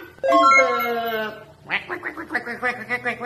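A drawn-out nasal call gives way to a quick run of raspy duck quacks, repeated in a steady pulsing rhythm, fairly close.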